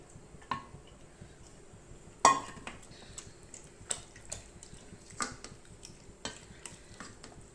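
Cooked moong dal going into ivy gourd in a pan, then stirred: a sharp knock as it is added, followed by soft, intermittent scrapes and taps of the spoon, quiet and close.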